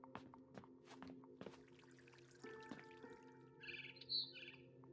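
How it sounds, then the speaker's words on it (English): Birds chirp and tweet outside a bedroom window in the video game What Remains of Edith Finch, faint scattered calls over a quiet tonal hum, with a brighter trill near the end. "Then I heard chirping outside my window."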